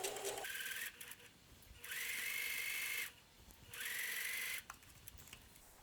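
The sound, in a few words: sewing machine stitching trim fabric for a quilt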